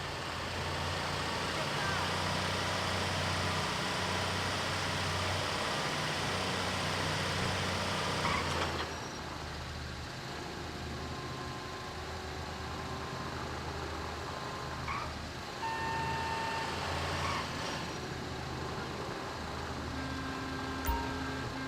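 A heavy construction vehicle's engine rumbles steadily in GTA V, a low continuous drone that keeps going throughout, with faint tonal beeps appearing later on.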